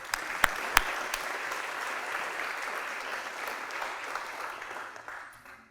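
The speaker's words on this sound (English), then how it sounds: "give a round of applause for those folks" Audience applause at a retirement dinner in an auditorium, a dense steady patter of many hands clapping with a few sharp louder claps early on, fading slightly at the end.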